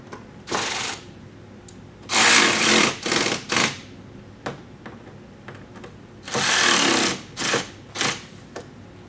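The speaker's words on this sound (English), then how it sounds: "Now we can fully tighten down both of our screws." A power tool drives mud flap screws into a BMW X3 M in short bursts of whirring and rattling, several separate runs of a second or so with quiet gaps and small clicks between them, close by with no talk.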